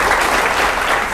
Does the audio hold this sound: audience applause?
yes